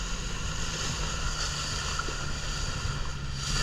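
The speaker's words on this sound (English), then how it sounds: "Yep, there are the waves." Waves on the 1000 Islands slap and wash against a moving boat, a steady rushing water-and-wind roar with engine drone underneath, continuous and close, with no voices.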